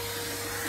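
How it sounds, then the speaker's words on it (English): A Hoover vacuum cleaner sucks up rust while a leaking Ideal Logic combi boiler is being repaired, giving a steady, close, continuous whine and roar that holds unchanged throughout. "I do like to get the Hoover out on jobs."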